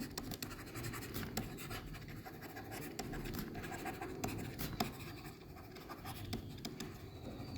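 Pen scratching steadily across paper, close and quiet, with a continuous scribbling texture broken by small taps.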